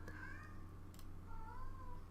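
A pet cat meows indoors, two drawn-out, fairly faint meows over a low steady hum, with a soft tap between them.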